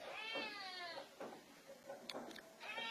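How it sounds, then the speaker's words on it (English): A cat meows repeatedly in the corner of a kitchen, with a drawn-out wavering cry followed by several shorter meows, close and fairly quiet against a still room. "Why are you meowing in the corner of the kitchen?"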